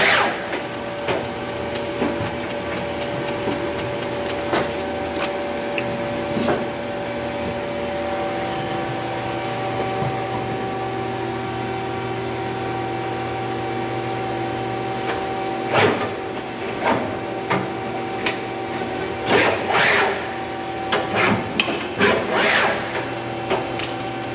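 Takamaz XT6 CNC lathe with gantry loader and in-feed/out-feed conveyor, running steady machine hum and whine with repeated mechanical clunks and clatters as the loader quickly unloads and loads parts, no talking.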